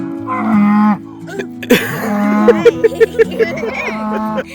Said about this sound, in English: You call the cow, now the cow's coming.